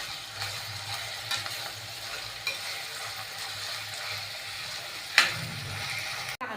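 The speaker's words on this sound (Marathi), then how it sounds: "ह्याच्यामध्ये आपण दोन बारीक चिरलेले कांदे टाकून घेऊयात कांदा हा तेलामध्ये मऊ करून घेऊयात" Two finely chopped onions frying and softening in hot oil with cumin in a pan for a Maharashtrian mung bean curry, a steady soft sizzle with light stirring and a sharper clatter near the end, no talk.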